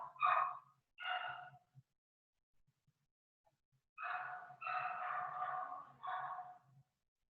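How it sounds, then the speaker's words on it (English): A pet dog gives a few short barks followed by a longer run of overlapping barks and yelps, faint and somewhat distant, with quiet gaps in between. "And that's my dog."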